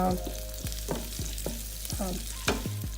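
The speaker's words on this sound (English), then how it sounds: "onions is grilling" Onions frying in pork chop grease in a skillet, a steady close sizzle crackling under repeated stirring and scraping strokes, with no talking.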